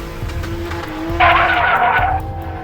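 A toy remote-control car skids in a cartoon, a bright tire-squeal screech of about one second rising over a steady background engine hum, fairly loud and close.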